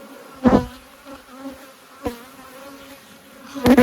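Purebred Carpathian honey bees buzz around a low-maintenance apiary, several loud close passes droning past between quieter stretches of steady background humming.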